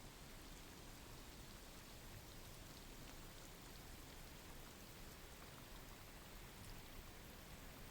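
Recorded rain plays quietly in the background, a steady, even hiss of falling drops with no breaks and no voices.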